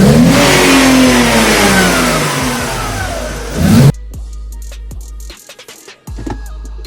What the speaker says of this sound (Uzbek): va gaz berganda mana bundoq